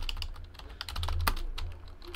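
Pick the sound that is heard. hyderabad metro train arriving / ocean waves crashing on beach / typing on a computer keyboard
typing on a computer keyboard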